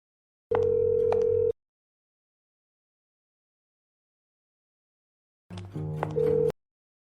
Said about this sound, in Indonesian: Telepon dia, telepon dia, telepon sampai dia datang.